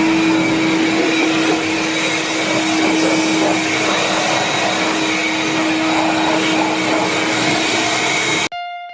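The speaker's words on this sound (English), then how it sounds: "So I'm gonna use my leaf blower." A leaf blower roars continuously at close range while drying a car's engine bay, a loud steady whooshing whine that cuts off abruptly near the end.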